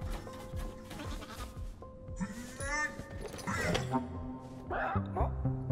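Several goats bleat amid a busy soundtrack from the video game Creaks, with steady music and clattering effects, the calls rising and falling over a few seconds.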